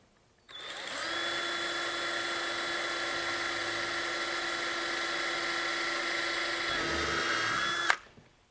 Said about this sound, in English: Take your power drill, put it in the very first hole,